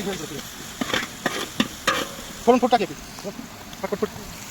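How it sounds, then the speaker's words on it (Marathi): Biryani masala fried in a pan for village-style mutton biryani, with scraping stirs and a soft sizzle under nearby talk, the strokes coming in short irregular bursts. "हे आता चांगला भाजून घेऊ आपण मस्त तळून घेऊ"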